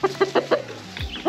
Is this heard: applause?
no